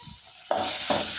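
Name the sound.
sautéing onion with mustard seeds and urad dal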